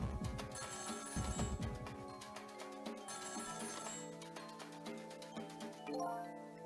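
A telephone rings in the Ghost Trick video game, a repeating trilling bell pattern layered over game music, moderately loud and continuous.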